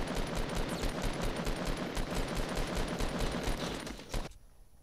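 Rapid automatic gunfire in Fortnite, a steady, loud stream of evenly spaced shots that runs for about four seconds and then cuts off abruptly, with no voices.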